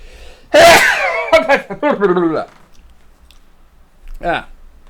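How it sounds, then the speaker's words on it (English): A single loud sneeze bursts out close to the microphone, followed by sniffing and a few throaty breaths, then a brief vocal sound. "There's a sneeze for you."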